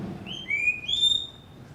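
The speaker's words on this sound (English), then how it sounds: "Actually, she doesn't bark. She only whistles." A dog that whistles rather than barks, heard in the Amazon: a couple of thin, high whistled calls, rising and sliding, close and fairly faint over quiet background.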